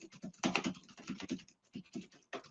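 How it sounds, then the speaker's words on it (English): Rapid, uneven clatter of keystrokes on a computer keyboard, close and distinct, picked up by an AirPods 4 microphone, with short pauses between bursts of typing. "If you were typing on a keyboard, this is what it would sound like."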